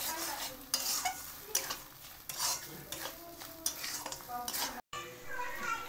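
A spoon stirs carrot halwa with sugar in a pan, giving rhythmic scraping strokes every half second or so over a soft sizzle, with a momentary dropout near the end.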